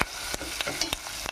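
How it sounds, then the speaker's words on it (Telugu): Turmeric frying in a hot pan, a steady close sizzle broken by several sharp scraping stirs of a spatula, with no voices. "కొంచెం పసుపు, పచ్చి వాసన పోయేదాకా ఫ్రై చేసుకుందాం."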